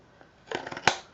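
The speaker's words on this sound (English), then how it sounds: "put my scissors against the side of the chipboard" Scissors snip through folded cardstock pressed against the edge of chipboard while mitering a corner for a summer camp mini album, giving a short cluster of crisp, close cutting clicks and one sharper snap, with no talking.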